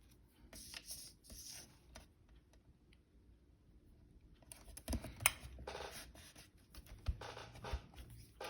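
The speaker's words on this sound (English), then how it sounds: "And I'll just ink over that one." Pen inking over a paper journal tag, close and quiet, in two bursts of light scratchy strokes separated by a pause, with small taps and handling noises.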